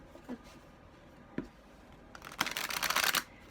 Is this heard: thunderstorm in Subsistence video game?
no